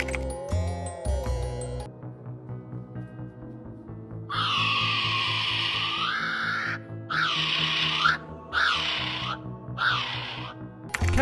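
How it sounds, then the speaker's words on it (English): A kiwi bird calls with a series of shrill, rising and falling whistling shrieks repeated four or five times in quick succession, loud and close over a low background hum, with no voices. "Kiwi bird."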